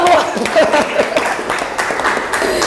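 Classroom applause for a student named Genesa during a gamelan lesson, a short burst of many hands clapping, fairly loud and close, with voices and chatter mixed in.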